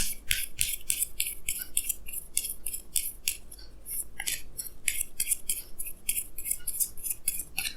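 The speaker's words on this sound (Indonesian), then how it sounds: "Jadi sini saya akan tarik lagi 2 kartu tambahan, ya." Tarot cards are drawn and shuffled from a deck, giving a rapid series of crisp papery snaps and flicks that run steadily throughout at close range, with no talking.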